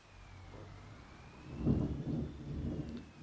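Thunder rumbles low and heavy through a storm at a house, swelling midway and rolling on under a faint hiss of rain, with a thin steady tone running in the background.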